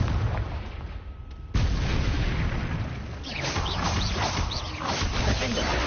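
A Confringo blasting spell explodes in the Hogwarts Legacy video game with a sharp, loud boom, then a crackling, rumbling burst of debris and echoing blasts that keeps going for several seconds.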